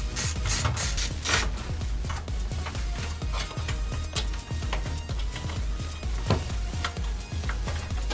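Screws being taken out of a gaming PC case during a rebuild, a run of close, quick ratcheting clicks and small metallic rattles from a screwdriver at work.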